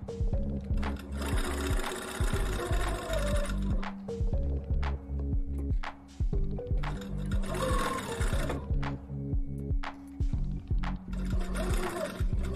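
Sewing machine stitching the seam of a flaxseed hot water bottle, a steady close whirring drone of rapid needle strokes with brief pauses and restarts between runs.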